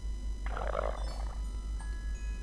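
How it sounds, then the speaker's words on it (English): A stomach growl sound effect from a visual novel game: one gurgling, rumbling burst lasting under a second, heard alone over a steady low background hum. "That is a stomach growl and a half."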